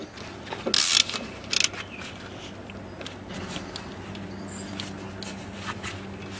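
A tool tightens screws that hold the front brake disc of a Renault Twingo: two short, close bursts of ratcheting clicks, then faint metallic taps and clunks.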